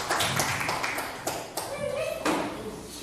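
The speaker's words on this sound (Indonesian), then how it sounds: "Kita kasih aplaus dulu buat Bu Retno." Applause at a school teachers' dissemination event on positive culture, a short burst of scattered hand claps and taps with some voices in the room, moderately close.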